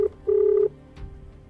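A phone number being dialed to reach a business office, heard as two clean electronic keypad tones, one short and one longer, loud and close with no talking.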